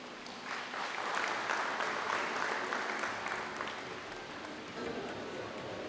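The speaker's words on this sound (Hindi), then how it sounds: "कृपया तालियों से इनका स्वागत करें।" An audience at a Dr. Baba Saheb Ambedkar anniversary gathering applauds to welcome a speaker, producing a broad, sustained wash of clapping that swells and then holds steady throughout.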